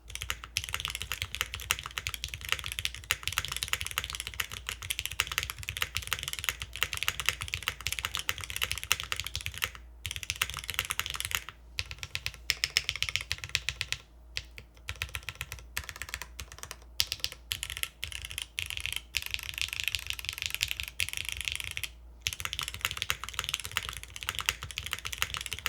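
Typing on a Neo98 mechanical keyboard with PORON gaskets, no foam, an aluminum plate and granite switches: quick, dense keystroke clacks close up, with bursts broken by brief pauses.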